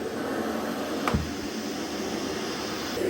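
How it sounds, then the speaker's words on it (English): A Shark Stratos upright vacuum cleaner runs on a hard floor in hard floor mode, a steady broadband whoosh with a single sharp knock partway through. "Now let's recline the vacuum head and see how well it performs."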